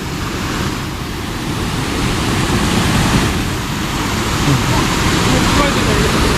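Rushing water of a large stream flowing above Bhivpuri Waterfall, a steady broadband roar that stays loud and continuous throughout, with slight swells and no breaks.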